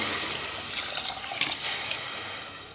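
Water poured into a cooking pot holding soaked rice, dal and sautéed tomatoes for Tamil Nadu dal rice, a steady close splashing pour running throughout with no talk.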